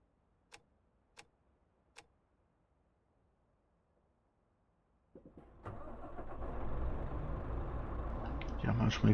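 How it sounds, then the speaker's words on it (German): Truck engine in Euro Truck Simulator 2 cranks and starts after three sharp clicks, then settles into a steady diesel idle that grows slightly louder toward the end. "manchmal hilft es auch den Motor erstmal zu starten"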